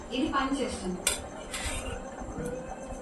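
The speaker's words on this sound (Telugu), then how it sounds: "దీన్ని ఇప్పుడు మనం ఒక ఐదు నిమిషాల పాటుగా మనం మూత పెట్టేసుకుందాం గ్రేవీ కూడా మనకి మరుగుతూ ఉందండి" A lid clatters onto a metal pot of simmering gravy, bright clanks and scrapes of cookware and utensils in quick succession, close and fairly loud.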